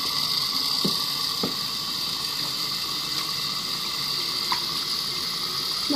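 Steady running water, like a tap filling a container for soaking scented Orbeez, continuous and close, with a few faint clinks and no talking.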